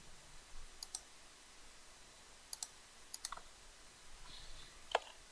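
Sparse, quiet clicks of computer keyboard shortcut keys pressed in small pairs and clusters, close and crisp over a faint background hiss, with no speech.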